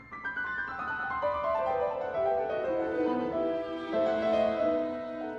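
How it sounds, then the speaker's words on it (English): Piano plays a flowing passage of descending runs and sustained chords, with orchestral-sounding warmth underneath, no voices. "in the film, Szpilman plays a piece that would usually sound like this"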